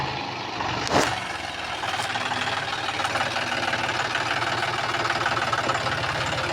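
Tractor engine running while reversing near a leaf shed on a farm, a steady mid-pitched diesel chug with a brief knock near the start, moderately loud and continuous.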